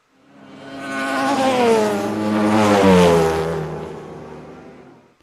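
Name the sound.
motorcycle engine sound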